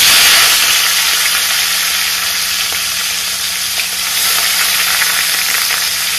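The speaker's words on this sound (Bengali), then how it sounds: "এখন আমি চিংড়ি মাছটা ভেজে নেব।" Prawns coated in salt and turmeric fry in hot oil in a pan, giving a loud, steady sizzle and crackle that continues without a break for several seconds, close by and alone.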